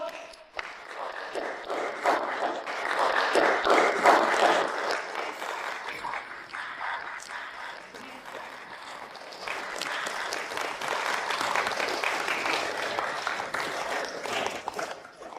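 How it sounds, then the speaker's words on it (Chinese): An audience at a formal corporate signing ceremony breaks into sustained applause, a dense, loud clapping that swells, dips briefly, then carries on with steady intensity. "大家掌声有请！"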